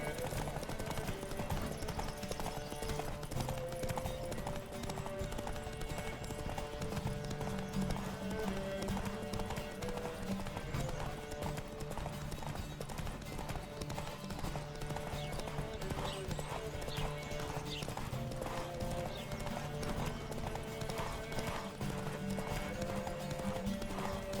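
Steady clip-clop of galloping horses in the video game The Witcher 3 runs throughout, loud and continuous, layered over music and occasional voices.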